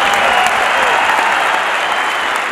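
Loud, dense applause from a large audience, a continuous roar of many hands clapping at once with no letup, close and full throughout.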